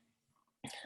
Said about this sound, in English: I'm gonna clear my throat so I can talk.